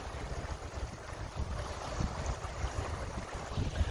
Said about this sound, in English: If you can listen to the water flowing